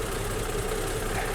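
A rare classic Bentley engine idles just after start-up, a smooth, steady, close-up hum with an even low throb and no pauses.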